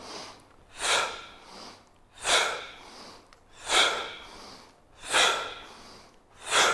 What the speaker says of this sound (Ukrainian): Після цього відразу ми робимо широке дихання.